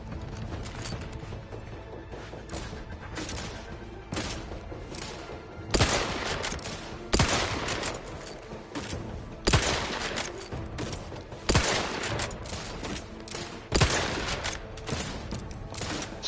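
A gun in The Outer Worlds 2 fires repeatedly, with steady rattling shots punctuated every couple of seconds by louder, sharper bursts, close and fairly loud over a constant busy game background.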